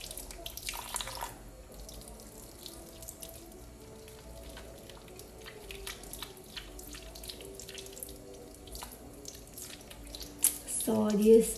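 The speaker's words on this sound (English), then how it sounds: "So this running water will help us remove the microorganisms and dirt into the sink." Tap water runs steadily into a sink while hands are rinsed during a handwashing demonstration, a continuous close hiss with light splashing and a brief louder burst near the end.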